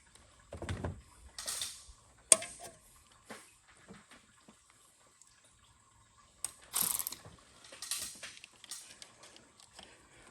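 A hand ratchet works on removing the alternator from a 6.0 Powerstroke engine, giving quiet, close bursts of clicking and metallic clatter separated by near-silent pauses.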